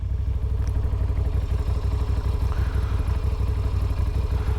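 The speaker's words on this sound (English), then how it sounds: "it'll come to life once I fire the bike up" A motorcycle engine idles with a steady low rumble and rapid, even pulsing, with light mechanical clatter throughout.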